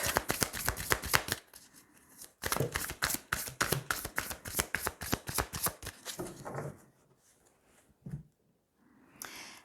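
A deck of tarot cards being cut and riffled, a rapid dense burst of card flicks followed by a pause and a second long shuffle, then a few softer slaps and shuffles near the close.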